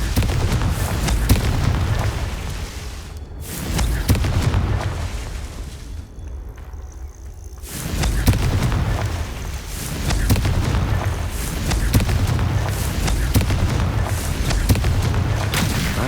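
A Confringo blasting curse goes off in Hogwarts Legacy, with heavy booming blasts and rumbling impacts that drop away briefly twice before surging back at full strength.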